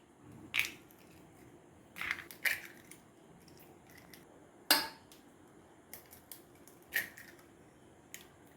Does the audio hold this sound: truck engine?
no